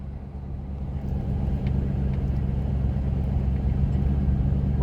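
A 1973 Ford Torino cruising at about 30 mph on a road, with a steady low engine and road rumble that builds slightly and holds, heard from inside the car with no talking.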